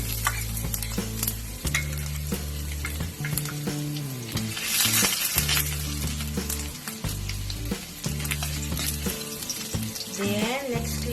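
Ginger sautéing in a hot pan sizzles steadily with repeated scraping strokes of a spatula, close and fairly loud, while a low hum runs underneath.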